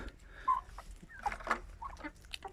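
A young Shamo chick, not yet sexed as hen or rooster, gives a few short clucks and higher peeping calls at close range, scattered irregularly over a quiet background.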